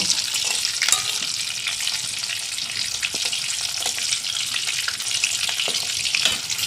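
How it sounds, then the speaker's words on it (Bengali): Onions and garlic frying in a pan until browned, a steady loud sizzle with scattered crackles and pops throughout, close up and without voices. "পেঁয়াজ রসুনটাকে আমি আগে সুন্দরভাবে ভেজে নেব"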